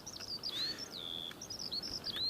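Skylarks near Runway 25 at Newcastle Airport pour out a thin, rapid, twittering song with rising and falling whistles, moderately faint and distant over low outdoor noise, with no voices.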